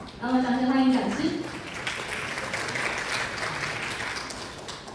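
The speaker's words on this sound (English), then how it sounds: "Big round of applause." Applause from a seminar audience greeting a speaker at a high power devices conference, a steady crowd clapping throughout with a voice briefly heard over it at the start.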